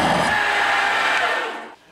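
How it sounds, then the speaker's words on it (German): A power drill bores screw holes into thick wood while a corner bench seat is being repaired, a steady close whine that runs for about one and a half seconds before winding down and stopping. "So, dann bohren wir mal die Löcher für die zwei Schrauben."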